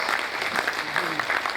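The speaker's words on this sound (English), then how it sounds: "Can we all give him a very good round of applause for that?" Audience applause at a business roundtable on the Appropriation Act 2022 and the construction industry outlook, a steady wash of clapping from a room of people after a presentation, continuous and fairly even throughout.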